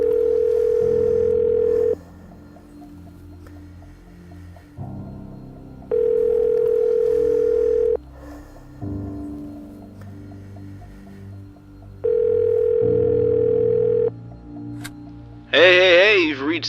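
Telephone ringback tones sound while a call waits to be answered, three long steady rings separated by pauses, with a low hum and music beneath and a brief voice-like sound at the end.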